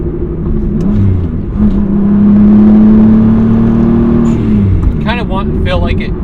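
JDM 1993 Toyota Supra MKIV on the road, a steady droning engine note from inside the cabin that climbs and holds under acceleration, then settles back, with people talking over it near the end.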